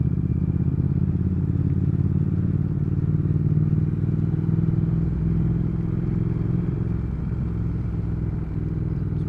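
A 2019 Triumph Speed Twin motorcycle on a test ride, its engine giving a steady, loud, low rumble throughout with constant wind and road noise and no letup.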